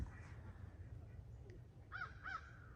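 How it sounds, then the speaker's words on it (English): Crows caw on a rural West Virginia homestead, two distant harsh calls near the end over quiet outdoor background noise. "there's the crows"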